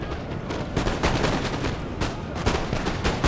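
Musket volleys in Napoleon: Total War, a multiplayer 2v2 battle on Italian grasslands, crackle as repeated sharp gunshot bursts over a dense, continuous roar of battlefield noise.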